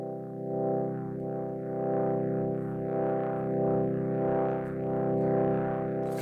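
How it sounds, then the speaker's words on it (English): A rock organ sound from a self-built C++ synthesizer on a Rock Pi 4 plays through an overdrive effect, giving a sustained, gritty, distorted chord with a slowly swelling, wavering tone, loud and alone. "You can hear it overdrive nicely."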